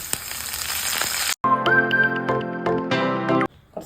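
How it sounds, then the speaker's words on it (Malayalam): Curry leaves dropped into hot oil while making an apple, cherry and date pickle, a loud steady sizzle that cuts off briefly, then returns with crackles and pops and fades out at the end. "കറിവേപ്പില പൊരിച്ച് കോരിയെടുക്കാം."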